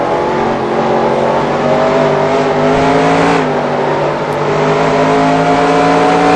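A damaged race car engine in NASCAR Racing 2003 drones loud and close in a steady, strained tone with a slight dip in pitch, without any voices.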